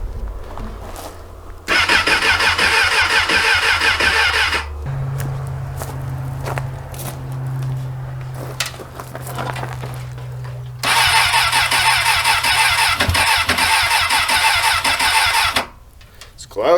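A Suzuki car cold-starting on a freezing day: two bursts of loud, broadband starter cranking, the first catching briefly into a low running hum before a second long crank, with faint movement and footsteps between.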